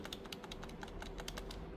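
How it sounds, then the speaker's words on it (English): An external computer keyboard's delete key is tapped over and over during BIOS setup on an MSI MS-16K2 laptop: quick, steady clicking keystrokes, close up, over a constant low background hum. "As soon as I press, I'm going to keep pressing delete button,"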